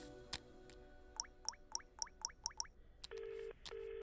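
In a movie scene, a telephone is dialed with a rapid series of clicking pulses, followed by two steady ringing tones. It is faint and indoors, with no one talking.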